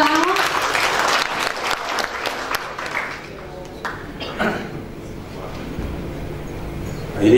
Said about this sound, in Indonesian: Boleh kita beri tepuk tangan untuk Bapak Ahok